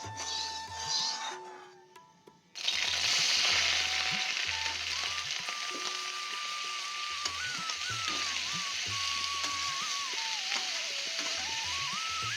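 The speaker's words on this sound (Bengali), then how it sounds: "আর এদিকে এখন ফুলকপি আলু ভাজা করছি।" Cauliflower and potatoes frying in a pan make a steady, close sizzle that starts abruptly and then runs on without a break, with a faint wavering tone drifting above it.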